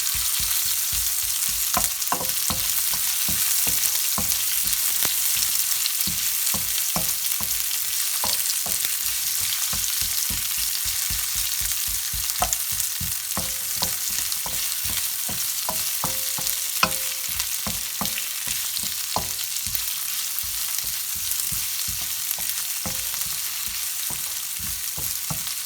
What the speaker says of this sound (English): once you see it sizzle, in goes the onions